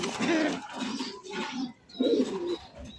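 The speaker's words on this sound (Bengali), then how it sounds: "আরো এক জোড়া কালারিং রাসগোল্লা কবুতর" Fancy racer Gola Giribaz pigeons in a loft coo in soft, repeated throaty phrases, close and fairly loud, with a brief pause midway before the cooing resumes.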